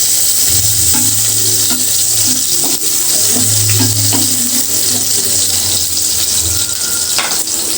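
Chopped onion and garlic fry loudly in oil, a dense steady sizzle near at hand, with intermittent scraping stirs and faint clinks.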